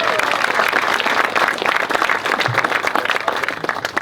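Wedding guests applaud after the vows, a dense, lively burst of many hands clapping at once, steady and fairly loud for a few seconds, with faint chatter mixed in.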